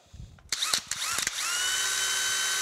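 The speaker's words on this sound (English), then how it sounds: "what I'm going to do is just take a hand drill here, and we're going to drill these out" A hand drill bores out blocked oil grooves in a horizontal boring mill saddle, starting with a few stuttering bursts before settling into a steady, loud whine, close up with no talking.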